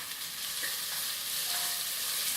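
Red onions and chili flakes sautéing in hot coconut oil give a steady, close sizzle with faint stirring scrapes, and no one speaks over it.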